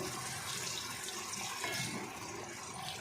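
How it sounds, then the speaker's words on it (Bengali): A small amount of water poured into simmering potol curry gravy, a steady soft splashing hiss that lasts the whole moment at low level, with no voices. "এবার আমি এখানে অল্প করে জল দিয়ে দেব"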